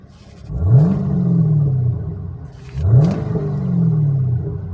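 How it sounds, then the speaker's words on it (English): A warmed-up 2015 Chevrolet Camaro SS V8 is revved twice at idle. Each blip rises sharply and then drops back into a deep, rumbling idle, heard up close with no talking. "I want to give it a little rev real quick"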